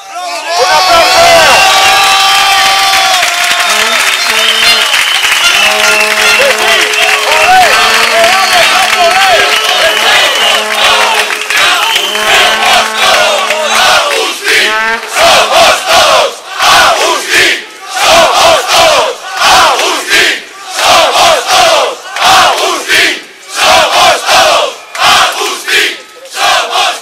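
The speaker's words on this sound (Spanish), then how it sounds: "¡Un aplauso!" Large crowd at a shipyard workers' protest, loud massed cheering and shouting that swells early, then breaks into rhythmic chanting bursts and clapping, dense and close throughout with voices mixed in.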